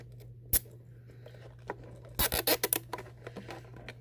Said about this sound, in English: You can use your scissors to clip the excess off the zip tie.